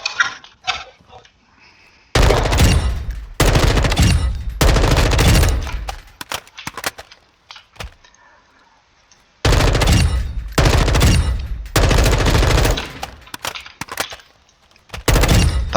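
M4 rifle fire in Modern Warfare 2, several loud sustained automatic bursts separated by short pauses and scattered single shots, close and dominant.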